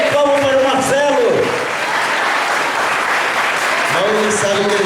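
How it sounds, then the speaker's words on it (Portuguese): A church congregation at a thanksgiving service applauds, a steady wash of clapping throughout, with a voice speaking over it at the start and again near the end. "Mas salve de palmas para o Marcelo."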